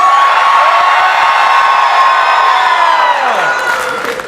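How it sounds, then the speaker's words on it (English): A large audience screams loudly and continuously at a Knott's Scary Farm maze announcement, a dense roaring wall of voices that holds steady and then begins to fade near the end. "I'm not allowed to reveal anything unless we scream loud enough that the news thinks we're having an earthquake"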